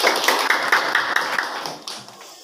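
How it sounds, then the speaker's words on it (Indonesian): Students applaud in a classroom with sharp, fairly close hand claps in an uneven rhythm that thin out and fade over about two and a half seconds. "beri tepuk tangan yang meriah."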